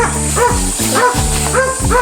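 Farm dogs bark and yip excitedly in quick repeated bursts, loud and close, with some whimpering between the barks and no speech.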